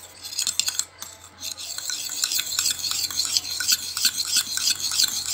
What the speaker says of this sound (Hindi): अच्छे से मिक्स कीजिए और आपकी क्ले बनकर तैयार।